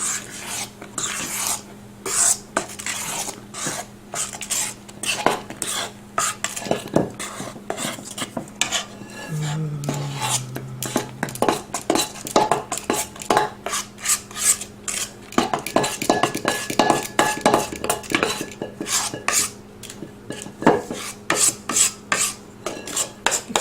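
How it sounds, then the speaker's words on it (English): A big spoon folds cake batter for a savory pineapple upside-down cake, scraping and clinking against the bowl in a steady run of close, irregular strokes with no talking. "Fold it in."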